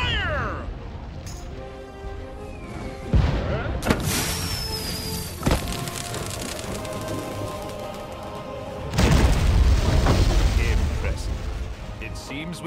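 Ship cannons fire in the Pirate101 video game during a clash with the Armada, several heavy booming blasts spread across the clip over game music and effects, with a voice speaking at times.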